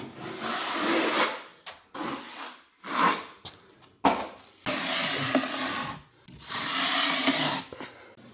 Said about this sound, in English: here we're going to be putting our 45-minute coat of mud on